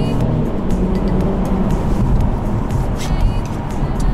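BMW 440i Gran Coupé with its six-cylinder engine driving, a smooth low engine drone with road and wind rumble held steady and fairly loud inside the car.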